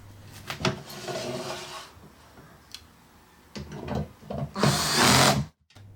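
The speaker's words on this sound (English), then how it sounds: "I always set my torque setting on my drill to a low setting for the screws" A cordless drill on a low torque setting runs in short bursts to drive screws into a media stand during assembly, with a longer, louder final burst and brief handling clatter between runs.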